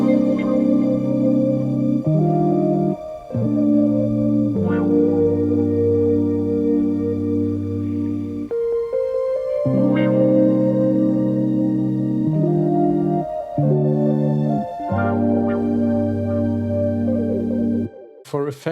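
Sine-wave synth lead for an R&B sample, with subtle hand-drawn pitch wobbles, plays a sustained melodic line of held notes and short phrases over a steady, full backing with no talking.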